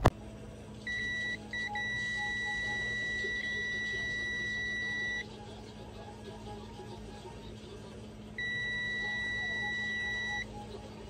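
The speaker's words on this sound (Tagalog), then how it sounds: "Nilagay ko sa beep sound ang ating multimeter at tinest ko isa-isa ang rectifier diode." A multimeter set to continuity gives steady electronic beeps while rectifier diodes in a 32-inch ACE television's switch-mode power supply are tested, with a long tone lasting several seconds, a pause, then another sustained beep over low background hum.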